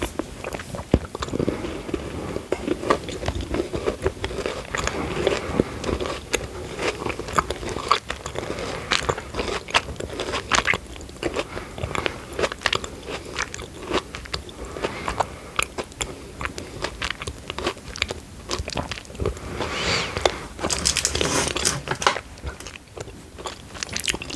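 Crunchy Tony's chocolate with fine biscuit pieces being bitten and chewed close up, a steady run of crisp crackling crunches and mouth sounds, fairly quiet with no talk.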